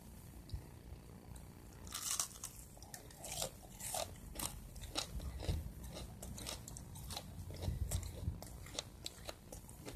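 Fried dory fish coated in breadcrumbs is bitten and chewed up close, giving repeated crisp crunches in an irregular rhythm over a faint background, with no talking.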